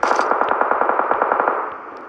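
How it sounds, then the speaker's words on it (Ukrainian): Rapid automatic gunfire in the mobile battle royale game PUBG Mobile, a loud steady burst of evenly spaced shots with echoing tails, fading slightly at the end. "Так, на фермі стріляють."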